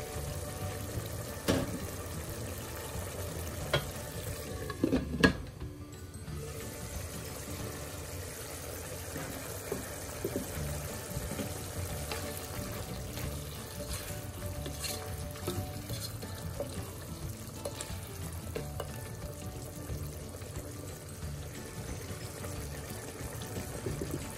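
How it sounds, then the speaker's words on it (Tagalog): Vinegar goes into a pan of potato adobo, bringing a low, steady simmering bubble and sizzle with a few soft clinks and splashes near the start. "Lagay ko na yung vinegar."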